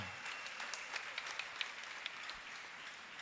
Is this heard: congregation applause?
yes